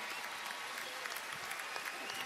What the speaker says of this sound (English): ladies and gentlemen, I'd like us all to applaud what may have been one of the best Final Fours ever